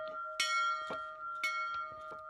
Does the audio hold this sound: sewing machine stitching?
no